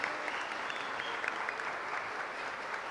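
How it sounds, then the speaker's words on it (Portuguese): A congregation clapping at a Catholic Mass, continuous applause from many people with a few crisper claps near the front, moderately loud and steady. "Uma salva de palmas."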